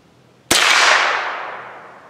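.22 Long Rifle bullet striking a steel plate outdoors: one sharp, loud metallic impact with a bright ringing tail that fades over about a second and a half, with no voices.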